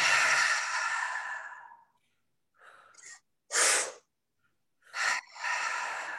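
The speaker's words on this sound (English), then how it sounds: "it's 2 quick inhales, 1 big exhale" Open-mouth breathing, close and alone: a long airy exhale, then two quick sharp inhales and another big breath out, with short silent gaps between them.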